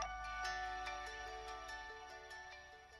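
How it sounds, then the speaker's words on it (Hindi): A phone rings with an incoming call, a repeating electronic ringtone pattern pulsing steadily and fairly quiet, alone without voices. "इतनी बार काटने के बाद भी वो फोन करता ही जा रहा है।"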